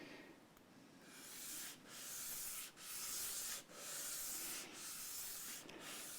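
Hand sanding on an acoustic guitar during a setup, moving to a finer grit: steady back-and-forth abrasive rubbing in close, repeated strokes with brief pauses between them, heard alone.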